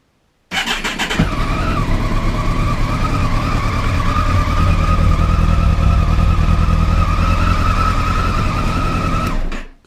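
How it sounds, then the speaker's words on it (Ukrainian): A Kawasaki ZX14 motorcycle engine, misfiring on a cylinder, runs loudly and close by, its idle rough and uneven with a sputtering, stumbling beat throughout. "у мене знову троїть мотор"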